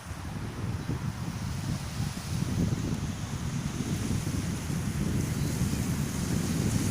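Surf breaking steadily on the sand at Thepha beach with a strong wind buffeting the microphone, a continuous, close, rumbling wash with no voices.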